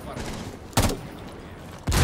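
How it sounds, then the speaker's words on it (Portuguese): Gunfire in the tactical shooter Rainbow Six Siege, two sharp loud shots about a second apart over a steady game and room background, with players talking around them. "eu vi o tiro atravessando aqui"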